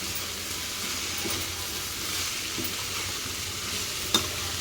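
Bitter gourd pieces with onions stirred in a frying pan: a continuous close sizzle and hiss with soft scraping strokes of the spoon and one sharp knock near the end.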